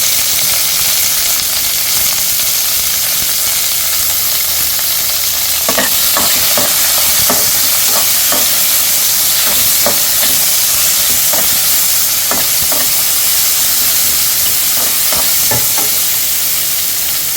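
Amaranth greens and chopped green tomato sauté in a pan, giving a steady loud sizzle and hiss with a run of sharp scraping stirs in the middle and later stretches, no voices.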